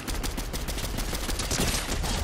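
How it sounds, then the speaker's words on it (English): Gunfire in a Fortnite match comes as a dense, continuous burst of rapid shots, steady and fairly loud with no talk over it. "Oh, gunshots!"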